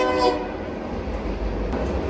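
A train horn blares briefly at the start, then fades into a low rumbling train passing, with a faint distant echo off canyons in Montana.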